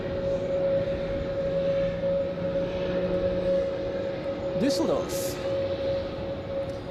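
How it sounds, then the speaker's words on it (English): An Airbus A321neo taxis out at Zurich Airport, a steady jet engine whine with a constant tone over broadband rumble, while a person talks over it and a brief chirp rises near the end. "we have this A321neo taxiing out of the alleyway"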